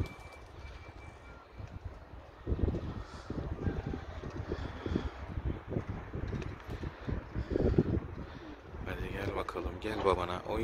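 A young smoky-grey pigeon of the muz kirli type flaps and coos outdoors in light drizzle, with a run of close, rapid wing-beat bursts over steady wind noise, and a voice comes in near the end.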